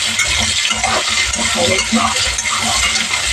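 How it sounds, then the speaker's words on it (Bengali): Potatoes sizzle and crackle in hot oil in a pan while being stirred, with scraping and clinking of a utensil over a steady frying hiss, close and fairly loud. "একটু আলুগুলো একটু ভাজা হবে।"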